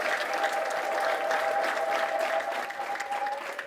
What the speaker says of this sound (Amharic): እስቲ ለራሳችሁ አንድ ጊዜ አጨብጭቡ።